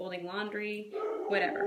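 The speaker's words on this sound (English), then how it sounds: "Sorry about my dog." A dog yips and barks indoors, its short bursts mixed under a person's steady talking close to the mic.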